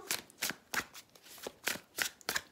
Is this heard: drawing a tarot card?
yes